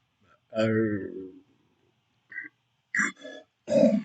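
A voice imitates a burp-like cry: three separate croaking, gulping vocal bursts with pauses between, fairly close and loud.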